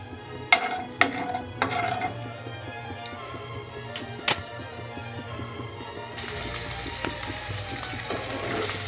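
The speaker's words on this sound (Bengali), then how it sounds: "এবারে পনিরগুলোকে আমি হালকা ফ্রাই করে তুলে নেব।" Paneer pieces fry in hot white oil seasoned with a little salt in a kadai, starting with a few sharp clinks and turning into a steady, dense sizzle in the last few seconds.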